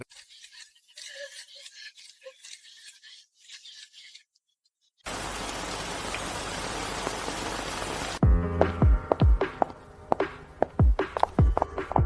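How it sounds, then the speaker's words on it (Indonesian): Steady rain falling outside sounds as a dense, even hiss for a few seconds, set between a quieter stretch of faint ambience and a louder section with tonal, musical sounds. No one speaks. "Di luar lagi hujan."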